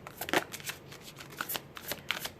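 Oracle cards shuffled by hand for a tarot reading, a quick close run of soft riffling flutters and taps over about two seconds, with no speech.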